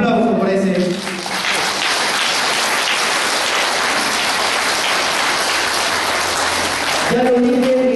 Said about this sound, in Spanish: creo que eso merece también un caluroso aplauso